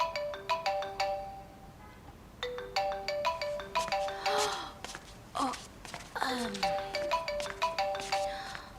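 A melodic mobile phone ringtone chimes in a repeating pattern of bright tones, interrupted midway by brief sighs and breathy vocal sounds before the ringing resumes.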